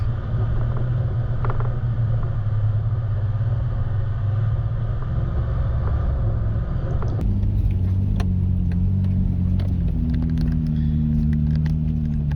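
A 4WD vehicle grinds over a rocky, loose bush track near Lake William Hovell, heard as a close, continuous low engine rumble with bumps and rattles, its tone shifting partway through as the vehicle changes pace.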